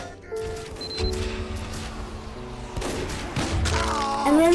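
Team Fortress 2 gunfire rings out in a busy, loud game mix with thumps and bursts, layered over music-like tones and effects; no clear talk.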